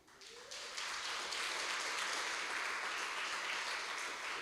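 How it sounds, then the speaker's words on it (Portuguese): A church congregation breaks into sustained applause for its elderly members, a dense wash of clapping that swells within the first second and holds steady, fairly distant and uniform, with no talk over it. "Um aplauso para os idosos"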